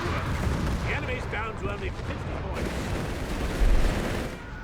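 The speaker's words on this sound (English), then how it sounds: "Flak 36 is getting hit with countless pieces of artillery, airbursts and direct shells there." Battle din in Company of Heroes 3 as a German Flak 36 gun position with the 16th Panzer Division is hit by artillery shells and airbursts: dense continuous rumbling explosions and crackling fire, with a commentator talking over it.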